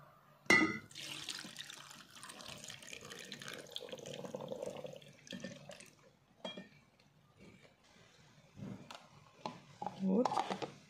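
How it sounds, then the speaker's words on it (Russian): Milk poured into a homemade vegetarian cocktail, a soft trickling liquid stream lasting a few seconds, with light clinks and handling noises around it and a voice speaking nearby. "а теперь я добавляю молочка"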